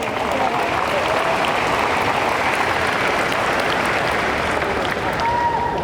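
A large crowd claps continuously and loudly, producing a dense, even wash of applause from start to finish.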